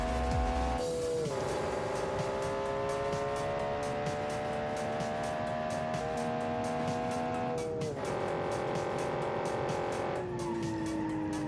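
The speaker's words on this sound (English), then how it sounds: "we pick up speed very quickly thanks to our turbocharged motor" A turbocharged car engine in BeamNG.Drive revving high and accelerating hard, a loud, sustained whine that climbs in pitch and drops sharply at gear shifts, alone and continuous.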